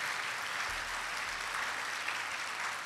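A church congregation applauds during a Christ the King feast service, a steady broadband wash of clapping hands filling the space evenly, moderately loud and alone.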